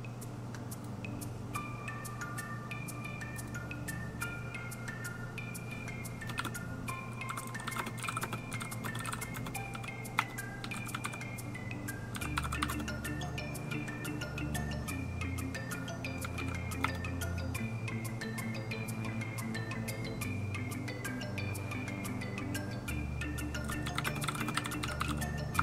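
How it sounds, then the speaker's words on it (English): Computer keyboard typing runs steadily through the whole stretch as fast, faint, close key clicks in irregular bursts, with a soft tonal hum underneath. "I'm just typing."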